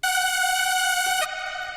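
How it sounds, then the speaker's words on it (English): A bright, buzzy hardstyle supersaw synth lead layer holds one sustained tone with rich layered harmonics, loud and alone, dropping to a duller timbre near the end. "The layer 2 sounds like this,"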